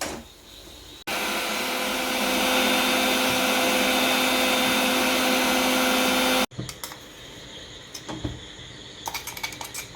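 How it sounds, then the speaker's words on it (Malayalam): A mixer grinder grinds coconut paste for pulissery curry, a loud steady whirring roar starting abruptly after a quiet second and cutting off sharply, followed by clinks and handling noises of the jar. "ഇനി നമുക്ക് ഇത് ഒന്ന് അരച്ചെടുക്കാം"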